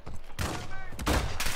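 Heavy bursts of gunfire in the Call of Duty: Modern Warfare II video game, loud and close, coming in two or three rapid volleys with a voice talking over them.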